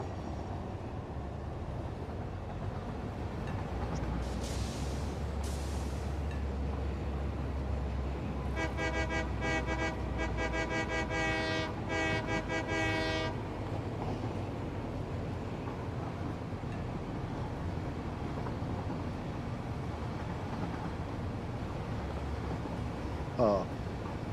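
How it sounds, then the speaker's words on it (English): A video game train rolling along its track, a low steady rumble with a horn toot partway through, while a person talks over it. "Riding on my choo choo."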